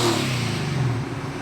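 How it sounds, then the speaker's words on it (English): A Ford Mustang-style drift demo car's engine revs loud and close, a steady low roar with shifting pitch for about a second and a half. "I just rev it, just because I want to hear it."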